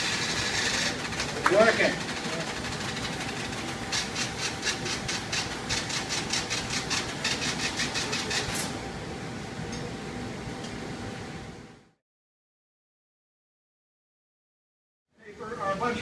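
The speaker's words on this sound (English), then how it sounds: "So it's reading the cards in." An IBM 1401 computer's card reader feeds punched cards in a rapid, steady mechanical clatter close by for about twelve seconds. It then cuts to silence before starting up again briefly, with a voice speaking briefly.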